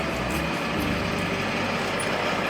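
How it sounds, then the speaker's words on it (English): An M1078 LMTV military truck engine rumbles steadily as the vehicle is put into drive and begins moving, a continuous low mechanical drone at close range with no voices. "And if I put the truck in drive,"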